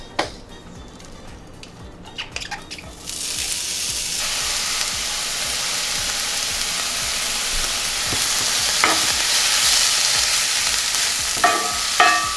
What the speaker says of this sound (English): adding about a tablespoon of vegetable oil, onion and garlic and ginger